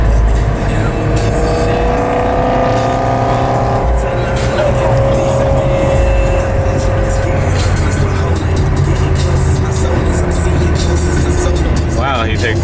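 An E90 BMW M3 with straight-pipe exhaust drives hard through corners, its loud, steady engine drone and rasp continuing throughout, with people talking over it.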